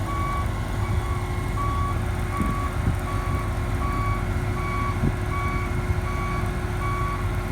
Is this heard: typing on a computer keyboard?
no